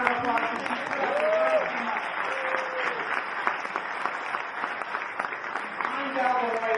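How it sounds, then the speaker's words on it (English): Conference audience applause, a sustained clapping crowd at moderate volume filling the whole stretch, with a voice talking over it at times. "Please give her a round of applause."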